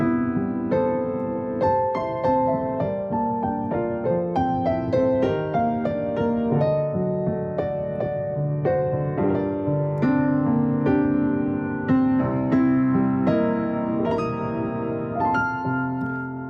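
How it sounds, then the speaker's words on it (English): Pianoteq virtual piano in a small virtual room, a steady flowing passage of close, clear notes and chords with crisp attacks and short decay, played alone for several seconds. "So this is the sound of just the piano."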